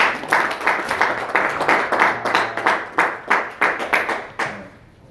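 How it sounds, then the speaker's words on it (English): Audience applause for a talk on development, a run of individual claps at varied spacing with no steady wash, fading out near the end. "Let's give him a big round of applause."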